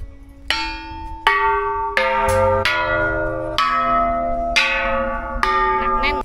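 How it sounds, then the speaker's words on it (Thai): Large bell at a Thai Buddhist temple struck repeatedly, about seven loud ringing strikes spaced roughly a second apart, each blooming into a long resonant hum that overlaps the next, with no talking. "เดี๋ยวเราจะไปตีระฆัง"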